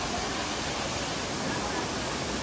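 A waterfall near Badlapur pours as a dense, unbroken rush of falling water, loud and close, filling the whole short stretch with steady hiss.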